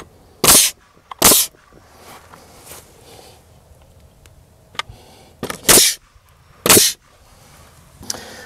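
Nail gun driving nails into a wooden fence, with several sharp loud pops spaced irregularly about a second apart, close by, over quiet background rustle and no talk.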